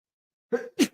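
A single short, sharp sneeze, a quick breathy intake followed by an abrupt burst, close and alone in silence.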